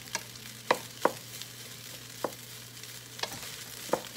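Mushrooms and rice frying in a pan with a teaspoon of butter, with a faint steady sizzle and about six sharp scrapes of a spoon stirring at irregular intervals, close by.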